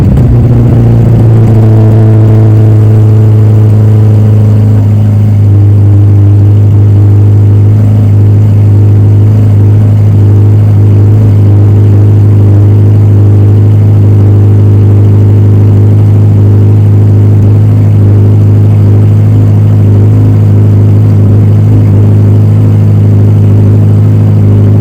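A Ferrari Roma engine idles steadily with a deep, loud, continuous rumble close to the microphone, a few light revs rising over the steady drone, with no talking.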